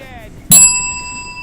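A single bright bell strike in Halo 3 on the Crow's Nest map rings out sharply and lingers with a clear, sustained metallic tone, while people talk nearby.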